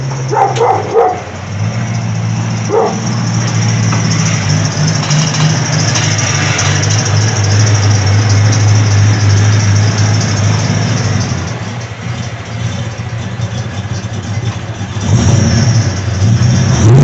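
A Ford Windsor V8 swapped into an old rusty car growls loudly and steadily with its new exhaust, swelling into a sharper throttle rev near the end.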